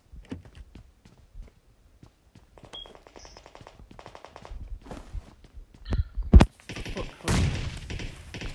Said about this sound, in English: there's a whole bunch of pistols popping